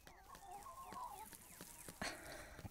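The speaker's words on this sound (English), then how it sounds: "feed the chickens." Backyard chickens cluck softly and repeatedly at feeding time, a faint series of short clucks and calls with a few sharper sounds near the end.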